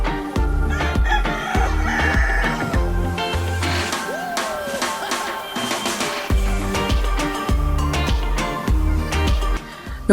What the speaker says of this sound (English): Now I'll go ahead and feed the rest of the chicken that is in the separate coops